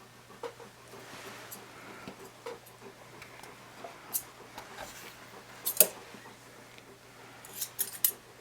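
Scissors snip at a dog's head during grooming, quick faint metallic cuts coming in irregular clusters against a quiet room with a low steady hum.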